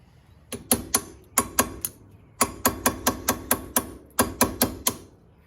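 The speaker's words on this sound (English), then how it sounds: "I'm gonna get my hammer and just go ahead and punch that pin out" Sharp metallic hammer strikes punching out a brake caliper pin on a 2021 XMR Outlander, close and loud, in quick bursts of two to five blows separated by short pauses.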